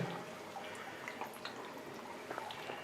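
Spring water trickles faintly through a house basement, a quiet, continuous watery hiss broken by scattered soft drips and splashes.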